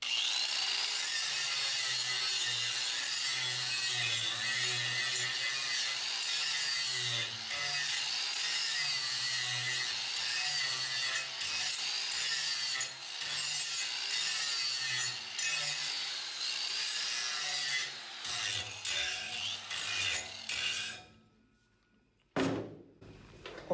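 An angle grinder grinds down a weld bead in long, steady passes, a continuous loud abrasive hiss and whine with a low drone beneath. It runs unbroken for about twenty seconds, then cuts off, leaving a brief quiet spin-down.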